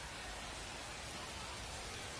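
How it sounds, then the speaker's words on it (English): Heavy rain pours over a baseball stadium at night as a steady, even hiss that fills the whole moment without a break. "Boy, the rain surely coming down here tonight"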